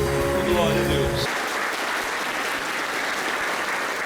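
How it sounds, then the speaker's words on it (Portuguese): A church congregation breaks into loud, sustained applause, with a sung or held musical tone underneath at the start that fades after about a second. "Vamos aplaudir Jesus"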